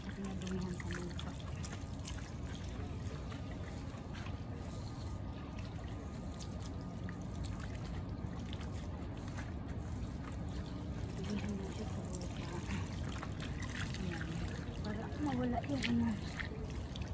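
Water runs and trickles faintly while soil is rinsed off a hanging plant, a soft continuous flow with a voice speaking over it.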